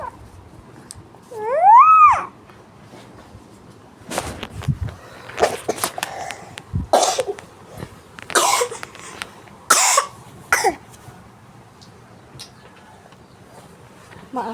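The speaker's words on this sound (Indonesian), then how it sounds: "Maaf ya anak aku lagi batuk." A sick child with a cold coughs in short, sharp bursts scattered through a home kitchen setting, several separate harsh coughs close to the microphone, with a high whistling tone earlier and quiet background between.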